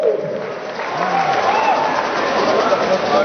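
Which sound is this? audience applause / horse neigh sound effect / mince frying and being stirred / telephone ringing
audience applause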